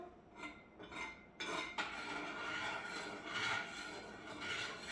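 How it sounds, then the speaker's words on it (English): Curried rice stirred in a pan over high heat, with a spoon clanking and scraping against the metal in several strokes over a continuous sizzle, close and moderately loud. "I'm just going to give this a good stir around till it's all mixed in together."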